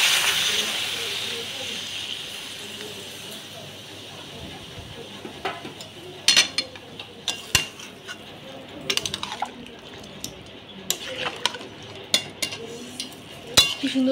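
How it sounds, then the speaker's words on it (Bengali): Milk poured into a pan of cooking Bengali shukto, a mixed vegetable curry, gives a loud hiss that fades over a couple of seconds, followed by scattered clinks of a utensil against the pan. "আমি এবারে দুধ দিয়ে দিচ্ছি।"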